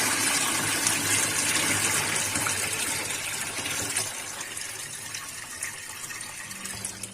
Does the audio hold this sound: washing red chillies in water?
yes